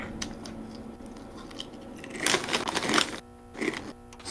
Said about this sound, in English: I can actively hear you chewing.